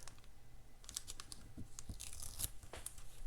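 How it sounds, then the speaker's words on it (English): A sheet of planner stickers is torn apart by hand in a few quick, papery rips and crinkles, close up and fairly quiet, with no talking. "This one I think I want to rip it."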